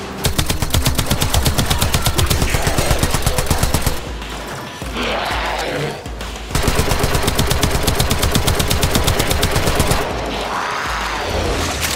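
Rapid automatic gunfire in the video game Warframe, long loud bursts of closely spaced shots broken by brief pauses, with ringing echoes and clattering effects in the gaps.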